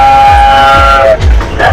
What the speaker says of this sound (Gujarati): અટલ સરોવરની અંદર અટલ એક્સપ્રેસ ટ્રેન દેખાતી હોય છે